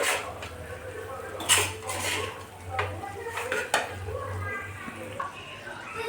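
Rock sugar syrup cooks in a very hot wok with the gas off, heard as clinking metal utensil strikes and scraping against the pan over a faint low hum, close up.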